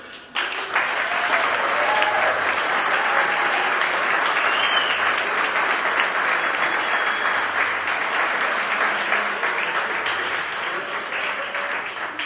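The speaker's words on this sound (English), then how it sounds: "a round of applause for Rich" A crowd at a history award ceremony gives a long, sustained round of applause for an honoree, the dense clapping holding steady and loud throughout before easing slightly at the end.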